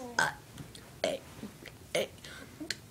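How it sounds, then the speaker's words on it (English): Short, loud burps in a row, three main bursts spaced about a second apart with smaller throaty sounds between, close to the microphone. "This guy stinks at burping."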